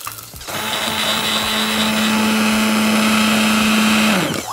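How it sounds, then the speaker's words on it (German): A blender purees tomato sauce for pinsa in one loud, steady, close whirring run with a sustained motor whine, starting abruptly and winding down at the end. "Das Ganze wird jetzt 2 Minuten lang gekocht und püriert."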